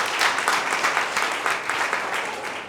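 Audience applause at a training event for 250 young entrepreneurs, honouring the authorities present, steady clapping from a crowd at moderate volume that tapers off slightly toward the end.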